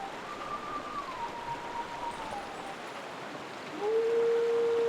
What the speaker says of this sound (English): Hey, look, a howling stone.